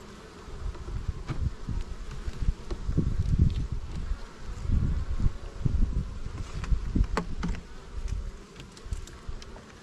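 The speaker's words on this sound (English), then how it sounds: "a whole lot of bees in the top of this thing" Honey bees buzzing around an opened beehive during an early spring inspection, a dense, wavering drone close by with occasional louder passes, no talk.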